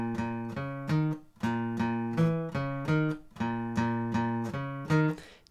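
Clean guitar picking out a riff from Deltarune 2, a bouncy repeating pattern of plucked notes in even groups, quiet and close, ending on a final low note with no talking.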